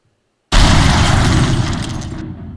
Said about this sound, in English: Very big, strong explosion. This is when it shoots the missile.